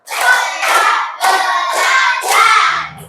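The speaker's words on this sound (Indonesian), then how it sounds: "Tepuk lima." A classroom of students in a teacher-training lesson claps together in rhythm, three distinct bursts of close, crisp hand clapping separated by short pauses, with no speech over it.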